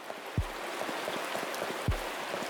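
Rain in the video game Pocket Mirror, a soft continuous patter of raindrops with a couple of heavier low thuds standing out, steady and fairly quiet.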